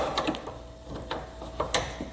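A ratchet clicks in short, uneven bursts while loosening a bolt on a Yamaha wheel knuckle, close and fairly quiet, with brief pauses between strokes.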